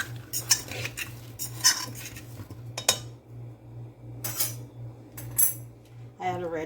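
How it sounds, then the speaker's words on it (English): Utensil mixing meatballs in a dish for spaghetti and meatballs, giving clustered scraping clinks and knocks of metal against the dish in short bursts over a steady low hum, with some faint talk. "I'm just going to just mix it together, so all the meatballs get a little head on top of it."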